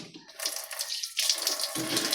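Tap water running steadily into a sink for washing rice, a continuous splashing rush with brief changes in flow as the stream hits the grains and basin, close by with no talk.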